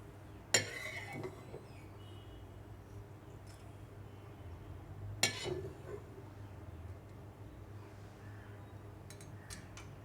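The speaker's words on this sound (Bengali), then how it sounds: "এখন আমি মরিচগুলো তুলে একটা পাত্রতে রাখবো" Crisp fried chilies being lifted out of hot oil and set into a bowl, with two sharp metallic clinks of utensil against cookware several seconds apart over a low kitchen background hum, plus faint small knocks near the end.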